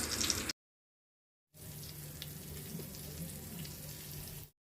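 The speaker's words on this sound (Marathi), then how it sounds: "तापल्या तव्यामध्ये एक एक तुकडे आपण तळून घेऊया" Boy fish pieces coated in rava and flour fry in oil on a hot tawa, Agri-style cooking. A steady, close sizzle runs for about three seconds after a brief silence.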